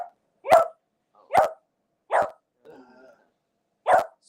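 A dog barks four times in sharp, evenly spaced single woofs at close range, with a quiet whine or grumble in the pause between the third and fourth barks.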